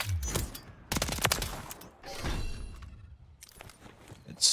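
Rapid WSP 9 submachine gun bursts from a Modern Warfare 3 match, loud clustered volleys with short gaps, mixed with game effects and footsteps.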